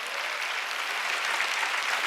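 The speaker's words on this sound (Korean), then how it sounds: "할 수 있는 사람만 박수로 하나님께 영광하더라고요." A church congregation at an Easter Sunday service applauds in a dense, even roar of clapping that holds steady throughout, fairly soft and without pauses.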